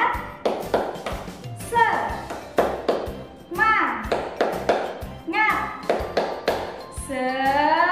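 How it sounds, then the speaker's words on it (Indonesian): A class of young children claps out a rhythmic spirit clap in quick patterned bursts, chanting along between the claps, with a teacher's voice leading. "Tepuk semangat."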